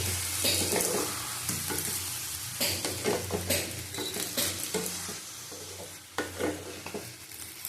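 Ripe mango chutney with turmeric is stir-fried in a pan, a sizzling hiss broken by repeated scraping and clanking of a spatula against metal, irregular and close, with no speech.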